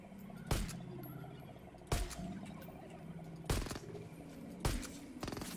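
A rifle fires at turkeys in Far Cry 5, four loud sharp shots spaced about a second and a half apart over a continuous game ambience with bird calls, no talk.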